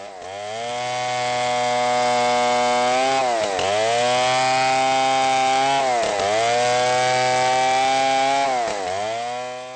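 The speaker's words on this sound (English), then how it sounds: "As the sound of the chainsaws drew closer" A chainsaw roars loud and continuous while felling trees in a forest, its engine pitch dipping briefly as the blade bites at regular intervals before climbing again, with no voices.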